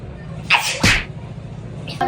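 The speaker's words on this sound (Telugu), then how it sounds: "తుమ్ములు వస్తున్నాయి" Two sharp, loud sneezes in quick succession, close to the mic, followed by a softer third burst near the end as someone sneezes repeatedly during a prank on a young nephew.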